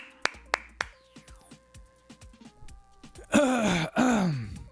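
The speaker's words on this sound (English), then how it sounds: "Just clearing my throat out." A man clears his throat in a couple of rough, throaty bursts near the end, close and fairly loud, after a few light taps and clicks in an otherwise quiet room.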